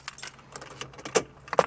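Car keys jangle in short metallic bursts as they go into the ignition of a 1997–2001 Honda CR-V, close and clear with no talk.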